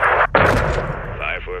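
A dynamite blast in the video game Call of Duty Modern Warfare 2, a loud booming burst with a short cut and rumbling tail, followed by faint radio-like tones.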